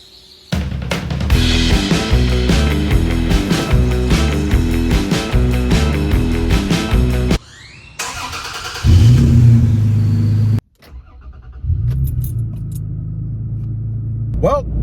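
A Toyota Tacoma pickup with a new aftermarket exhaust, about two weeks old, rumbles loudly and steadily, then shifts to a deeper, heavier drone before cutting off and settling into a quieter idle.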